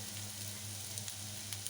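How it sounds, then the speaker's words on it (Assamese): Two green chillies sizzling with browned onions in a frying pan for baingan bharta, a close, even hiss with a few small crackles and pops, no voices. "এতিয়া ইয়াতে আমি কেঁচা জলকীয়া দুটাও দি দিম"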